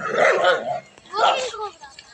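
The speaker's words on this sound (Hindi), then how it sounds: "इस पे डॉगी बहुत भौंक रहा है" A dog barks loudly and close by in two harsh bursts about a second apart, with people talking around it.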